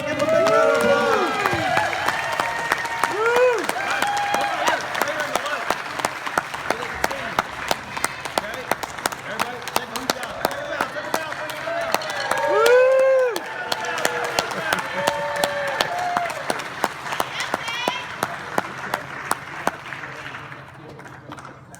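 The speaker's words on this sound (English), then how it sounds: "give them a big round of applause" Audience applauding a youth drum line after a camp performance, steady dense clapping with scattered cheers that holds for about twenty seconds, while an amplified voice talks over it at times before the clapping tapers.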